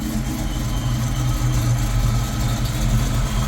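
A supercharged 1995 Ford Mustang GT with a T56 gearbox and 3.73 gears idles close by, giving a steady, deep rumble that holds even throughout with no talk over it.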